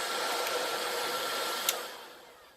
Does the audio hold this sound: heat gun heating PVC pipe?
yes